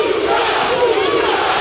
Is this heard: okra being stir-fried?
no